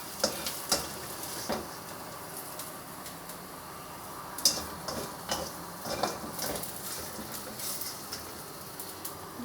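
An egg frying with onion in a pan, a soft steady sizzle with scattered small ticks and pops, heard close up and fairly quiet.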